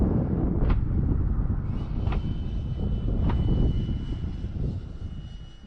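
A Freewing Avanti S RC model jet flying past with gear and landing flaps down, a steady whooshing turbine-fan whine with wind noise, fairly close and moderately loud, slowly fading.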